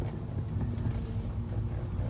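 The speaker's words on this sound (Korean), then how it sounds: "이 차 하체에서 소리를 들리시죠?" A low, rough rumble comes from beneath a car being driven on a rainy day, a dull continuous droning noise from the undercarriage, moderately quiet with no voices over it.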